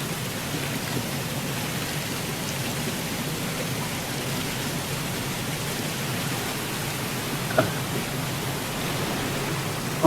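Cold spring water pours steadily from a hose at a spring resort in Casiguran, Sorsogon, a constant close rushing splash with one brief bump partway through.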